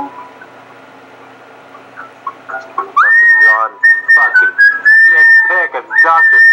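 A person whistles a high, wavering tune in clear repeated phrases, close and fairly loud, after a quieter stretch of low background noise.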